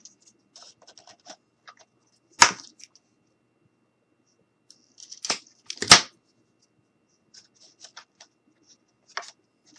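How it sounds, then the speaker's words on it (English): Scissors snip a small piece off the end of a craft material for a DIY fairy cottage, giving a few sharp, close cuts with soft handling noises between them. "So we're just going to cut a little bit of this off."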